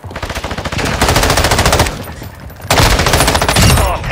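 Loud, close automatic gunfire in Call of Duty Modern Warfare II, with rapid rattling bursts running almost continuously across a few seconds and a brief lull in the middle.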